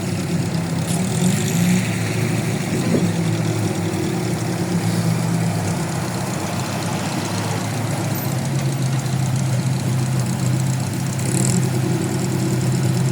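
Old vintage vehicles at a classic car rally, their engines idling and rumbling steadily, a continuous low mechanical drone with slight knocking, no talk over it.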